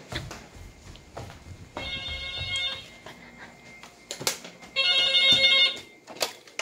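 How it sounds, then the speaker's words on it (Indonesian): A telephone rings twice in electronic bursts, with soft handling noises and thuds between the rings. "Ada telepon sebentar teman-teman."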